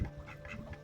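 Farmyard poultry, ducks among chickens, give a few soft quacks and clucks nearby, brief and fairly faint against a quiet background.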